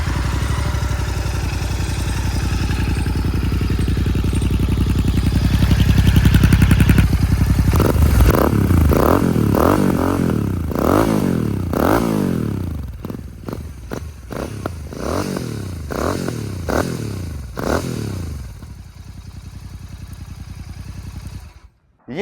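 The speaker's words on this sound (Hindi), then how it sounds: "ये थी इस बाइक की आवाज" A Royal Enfield Continental GT 650 with dB killers fitted idles loudly from its exhaust, then gets a series of sharp throttle blips that rise and fall in pitch before shutting off.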